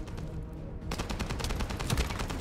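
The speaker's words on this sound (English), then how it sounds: "gunshot audio was the lower one" Rapid gunfire from weapons in the video game The First Descendant rattles out in quick, evenly spaced bursts, loud and sustained over low rumbling game sound.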